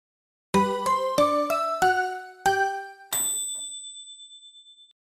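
A WeChat payment-received notification chime rings out alone: a rapid run of six bright, bell-like dings climbing in sequence, then a final sustained tone that rings and slowly fades.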